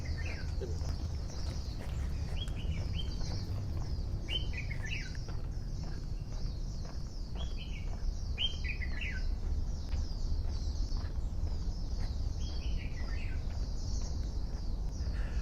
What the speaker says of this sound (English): I was just letting you guys listen to the birds for a moment.